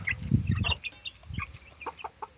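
Chickens and growing chicks in a backyard flock, close soft clucks and higher peeping chirps scattered across a few seconds, no talking.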